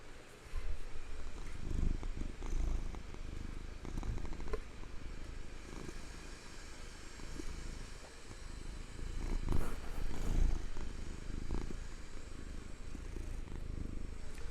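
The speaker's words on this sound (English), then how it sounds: "I hope you guys can hear him purring." A pet male cat purrs steadily up close in an apartment, a continuous low rumbling hum that swells slightly in places and carries on without any talking.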